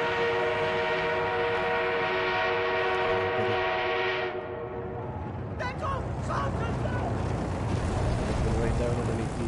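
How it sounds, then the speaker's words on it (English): An armored train approaches in a Battlefield-style video game: a steady whistle-like horn tone sounds over a low mechanical rumble, then cuts out, leaving heavy clattering, rolling noise as the train draws nearer. "Armored train is en route."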